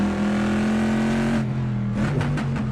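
A loud, close race car engine in a video game at Goodwood drones steadily, then drops in pitch on a downshift with crackling bursts; no talking.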